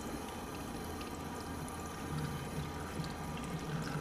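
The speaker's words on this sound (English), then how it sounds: "put it up against the faucet, put cold water on, and as it bleeds, the water bleeds through" Cold water from a kitchen faucet runs against a Berkey filter element to push the air out, a steady low rushing and trickling wash that holds evenly for the whole stretch.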